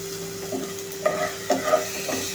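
Green chilli and garlic paste frying in hot oil while being stirred, with a steady faint sizzle and a few louder scraping stirs, no talking.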